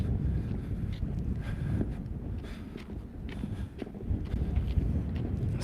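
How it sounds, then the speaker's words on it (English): Wind buffets the microphone with a low, rumbling roar that gusts unevenly throughout, with no voices. "it's getting a little windy now here"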